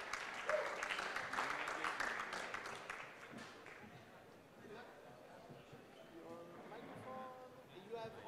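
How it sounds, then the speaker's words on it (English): An audience at a web technology conference applauds loudly for the first few seconds, then the clapping fades as stage sounds and a tonal musical sting take over. "Big round of applause for Aspect Health."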